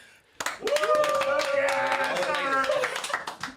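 Studio guests at a German radio station cheer and clap just after an on-air station jingle, a lively burst of close-up applause and whoops that fills the room and holds steady for a few seconds.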